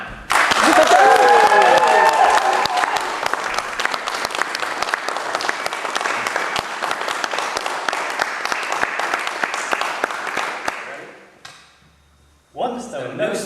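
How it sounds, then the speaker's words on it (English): Storytelling event audience whooping and clapping for two young storyteller performers, a loud dense burst of applause that carries on steadily before fading out, with a brief voice at the end. "Would you please whoop, shriek, clap and make some noise for Jono and Sam?"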